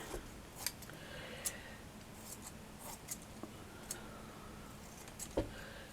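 Scissors snipping and trimming craft material for a flower cluster patch, a series of short sharp clicks and snips spaced irregularly over a quiet background.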